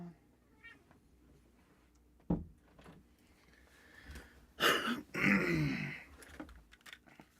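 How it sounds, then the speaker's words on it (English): Indoor cat being let in, giving a loud drawn-out meow and then a second longer meow near the end, close to the microphone, after a sharp knock and faint background murmur. "I'm gonna let this cat in here."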